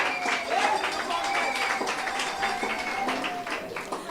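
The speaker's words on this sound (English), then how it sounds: "They deserve a round of applause." A crowd at an outdoor political rally in Anse la Raye applauds the Under-19 football champions with brisk clapping, while voices and calls carry over it throughout.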